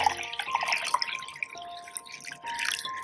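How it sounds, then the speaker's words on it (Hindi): Water pours and drips into a cooking pot for Lahori-style deghi haleem, about a litre going in over garlic-ginger paste, with close splashy trickling and small droplet sounds that fade and swell across the few seconds. "तकरीबन 1 लीटर के करीब पानी डाल दिया है,"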